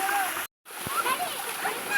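Water splashes and trickles while a Labrador puppy is bathed, a steady wet rushing cut by a brief silence, then running water resumes with faint voices in the background.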